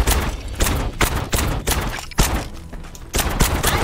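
Bursts of gunfire from a weapon in the Jumanji video game crack in a loud, uneven rhythm of repeated shots, close and dense, with no voices.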